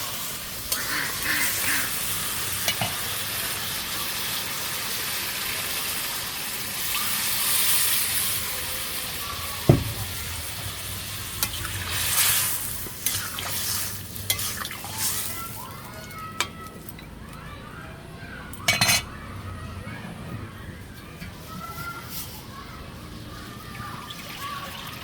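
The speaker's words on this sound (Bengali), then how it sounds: "এখন জল দিয়ে দিব।" Goat meat curry sizzles and fries in a pot as water is added, hissing and bubbling steadily with a few sharp clinks and scrapes of utensils throughout.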